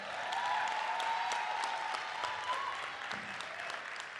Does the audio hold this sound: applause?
yes